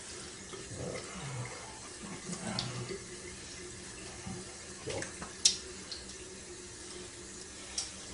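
Tap water running into a sink while the face is wetted before a straight razor shave, a low, faint trickle and splash with a few soft clinks and knocks, close by and without talk.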